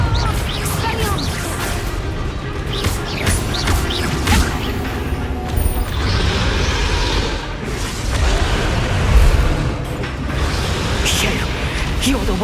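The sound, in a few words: Confringo explosive spell blasts in Hogwarts Legacy video game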